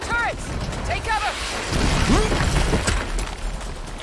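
Chaotic turret gunfire and explosive impacts in the video game Saints Row form a dense, loud, broadband roar with crackling bursts, while strained vocal sounds rise briefly above the din.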